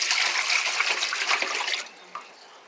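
Dirty water is dumped out of a refrigerator filter reservoir, a short gushing pour that splashes for under two seconds, then cuts off into quiet with one small drip or clink after.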